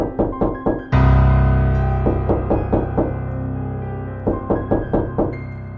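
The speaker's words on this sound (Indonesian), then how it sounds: "Pak Kurdi mendengar suara ketukan dari pintu rumahnya" Knocking on a house door in the middle of the night: groups of four sharp raps, then a deep booming impact, then more rounds of quick knocks, loud and close against a low droning backdrop.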